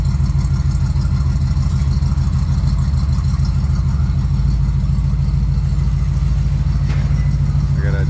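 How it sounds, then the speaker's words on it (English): A carbureted Bombardier engine idles, a loud, steady low rumble with a rapid even pulsing and no revving, close to the listener throughout. "That's how easy it starts with a carburetor."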